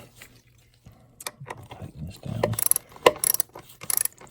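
A ratchet tightening a valve cover bolt on a 2006 Ford Fusion 3.0 V6, close-up bursts of quick clicking with a few light metallic taps between.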